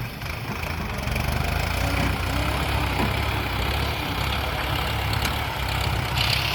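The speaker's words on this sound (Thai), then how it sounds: "นี่ก็รถไถครับ" Farm tractor engine running in a field, a steady low rumbling drone that holds at a constant level throughout, close and fairly loud with no talk over it.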